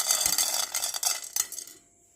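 Chana dal gets stirred in a pan with a spoon, giving a close, bright scraping and rattling that goes on briefly and then stops.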